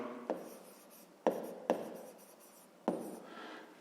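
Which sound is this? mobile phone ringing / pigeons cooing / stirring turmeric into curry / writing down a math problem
writing down a math problem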